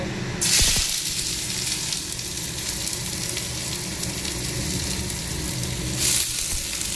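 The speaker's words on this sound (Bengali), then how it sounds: "শুধু কাঁচা লঙ্কা দিয়ে ভাজবো, কোনো মশলা টশলা দেবো না" Bottle gourd peel frying with green chilies in a pan, a steady close sizzle and hiss throughout with a couple of brief louder bursts near the start and end, no voices.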